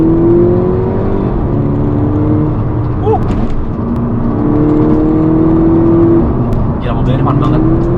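A VW Golf GTI Mk6 two-door accelerates in first gear, its engine droning loudly and rising in pitch throughout, with a person talking over the engine.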